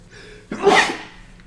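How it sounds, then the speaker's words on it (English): A single loud, close sneeze with a sharp burst after a short breath, then quiet. "I'm gonna sneeze."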